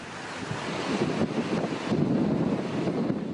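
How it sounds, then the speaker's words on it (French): Hurricane Dean lashes Martinique in 2007 with a roaring, continuous rush of gusting wind. It surges and buffets the microphone at close range, swelling louder toward the end with no voices. "Les arbres plient sous les rafales de vent."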